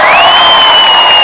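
A studio audience at a Telugu television game show claps and cheers in a loud, dense burst, with a sustained whistle-like tone riding above the crowd noise.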